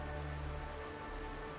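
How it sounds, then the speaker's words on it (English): Steady rain falling in the Honkai: Star Rail game world, a continuous dense patter and hiss with no voices. "This is the sound of rain."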